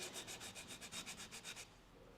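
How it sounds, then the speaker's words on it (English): Quiet, rapid back-and-forth rubbing of abrasive sanding across guitar frets, about a dozen rhythmic strokes close up, with no voices. "I want to make my lightest sanding marks up here at 15."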